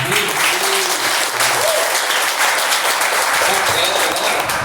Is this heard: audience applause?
yes